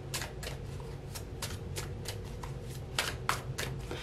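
Tarot cards being shuffled and drawn from a deck during a reading, a series of quick, crisp riffling bursts in a steady rhythm, close and fairly clear with no talking.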